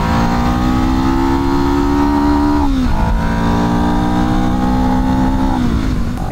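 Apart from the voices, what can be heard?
motorcycle engine revving high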